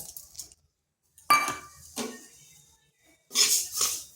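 Mung dal pours and clinks into a kadai on the stove, a few short bursts of rattling and metallic clatter separated by quiet gaps, close and clear without speech.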